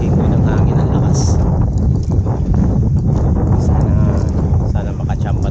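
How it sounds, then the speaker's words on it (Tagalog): Strong wind roars steadily across the microphone on a shoreline during shore-casting fishing, a dense continuous rush with no pauses. "Kaya ko narinig yung simoy ng hangin ang lakas."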